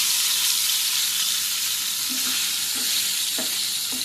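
Matar paneer masala fries in a pan with a loud, continuous hiss, and a few soft scrapes and clicks of stirring sound near the end.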